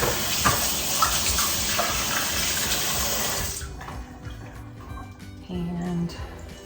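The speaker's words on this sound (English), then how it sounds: "Let me wet my hands off here" Tap water runs steadily from a faucet into a sink for about three and a half seconds while hands are wetted for shaping meatloaf, then cuts off, leaving faint kitchen clatter and a brief low hum.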